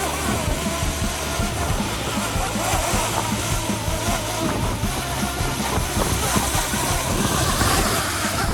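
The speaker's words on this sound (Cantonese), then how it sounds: "降落嗰一刻都相當之大風" Strong sea wind roars steadily around a DJI Mini 2 drone as it comes in to land, a loud continuous rumbling buffet with no clear breaks.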